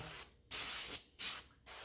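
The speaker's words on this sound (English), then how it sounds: "Secondly, I use my spray to kind of flush that out." Three quick, hissing spray bursts from a pump bottle flushing out a car window channel, evenly spaced, close and fairly loud.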